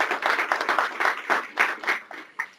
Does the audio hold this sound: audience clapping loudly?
yes